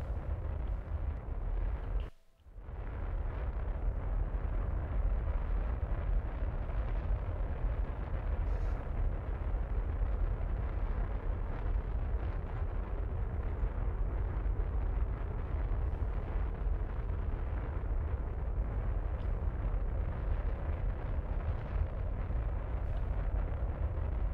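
Sustained, heavy low roar of a rocket engine at launch in the Kerbal Space Program video game, steady and loud for nearly the whole stretch after a brief dropout near the start, with no talking.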